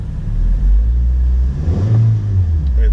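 A manual transmission car's engine revs up as a learner driver adds gas, a loud close rumble that swells and holds with a rising drone partway through.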